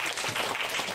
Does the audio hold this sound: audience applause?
yes